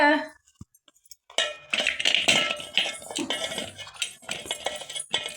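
A metal cooking vessel handled in a home kitchen while making hotel-style idli sambar, with bright clinks and scrapes of metal continuing after a short pause.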